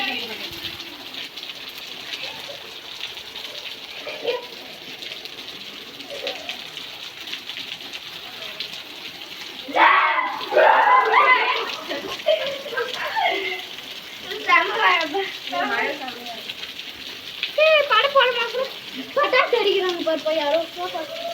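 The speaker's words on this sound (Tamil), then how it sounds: "மழை டைம், சரியான மழை." Heavy rain hisses steadily while rainwater pours from a pipe in a constant rushing stream. People talk over it now and then.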